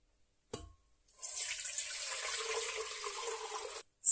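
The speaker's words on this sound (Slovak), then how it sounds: "Dám vodu do sitka a baza a citrón budú v sitku, ale voda bude v hrnci." Water pours through a kitchen sieve into a pot, straining elderflowers and lemon for elderflower syrup: a steady splashing stream of about two and a half seconds, close and alone, after a brief knock.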